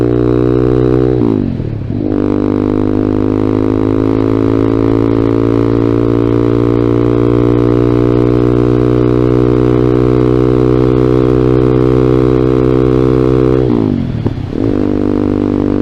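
Loud exhaust of a Vader ZS190 Honda Grom clone motorcycle on a ride: a steady, close, droning engine note that dips briefly near the start and again near the end as the throttle eases, with no talk.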